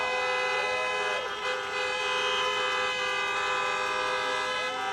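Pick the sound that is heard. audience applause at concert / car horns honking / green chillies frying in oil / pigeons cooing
car horns honking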